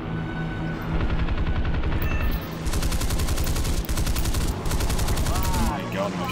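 Aircraft machine guns rattle in a War Thunder battle, loud rapid bursts repeating over a constant engine drone, with brief gaps between volleys.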